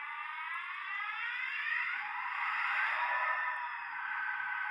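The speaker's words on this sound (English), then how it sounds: "Start up the engine." A model locomotive's sound system starts its engine on a battery-powered dead rail setup, a steady high-pitched whining drone that holds for several seconds with slight rises and dips in pitch, close and unbroken.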